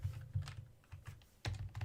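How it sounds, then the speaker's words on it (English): Quick bursts of computer keyboard typing sound close and crisp, short clusters of clicks separated by brief pauses, with no one talking. "I'm typing the wrong thing."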